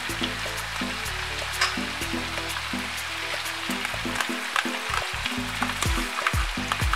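Sauce and vegetables hit a hot pot of Dominican asopao, giving a steady sizzle and crackle with stirring clatter, close up and with no talking.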